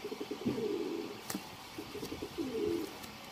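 Soft, low pigeon coos repeat in short rolling phrases, with a brief click partway through; fairly close and otherwise quiet.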